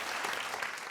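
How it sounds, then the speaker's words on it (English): Audience applause after a performance at a virtuoso music competition semifinal, a steady dense wash of clapping filling the whole moment without pause. "this was a huge applause"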